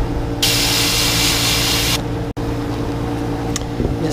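Steady hiss of a low-pressure airbrush spraying paint onto fishing baits. Two sustained bursts are separated by a brief gap, close and continuous, with a short faint puff near the end.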